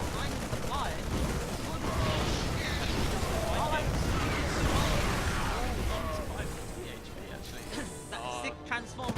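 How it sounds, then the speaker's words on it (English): Marines firing on a Viking in a StarCraft II match: a dense, continuous wash of game gunfire and explosions that fills the whole stretch, with a commentator's voice running underneath. "There's 2 extra marines shooting down that Viking."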